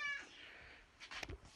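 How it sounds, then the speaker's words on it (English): A pet cat meows briefly in a home kitchen while stew cooks, one short clear mew at the start followed by quieter rustling and a few soft knocks nearby. "Cat likes to hang around while I'm cooking."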